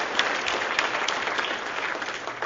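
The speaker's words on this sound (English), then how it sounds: "I think we should give him a big round of applause because this is a fantastic gathering." Audience applause at a business gathering on building and growing the aerospace business, a steady dense wash of clapping hands filling the room for a couple of seconds with no talk over it.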